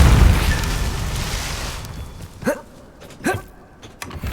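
A Depulso spell blast in Hogwarts Legacy sets off a loud, booming burst that rumbles and fades over about two seconds, followed by two short vocal exclamations over a quieter background.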